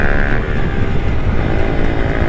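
Honda Grom motorcycle engine running close by, a loud, continuous, rough buzzing exhaust note with a slight dip in revs partway through.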